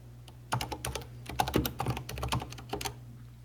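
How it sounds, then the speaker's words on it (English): Rapid typing on a computer keyboard clatters in quick, uneven bursts of close key clicks over a low steady hum, with no voices over it. "We can hear you typing right there."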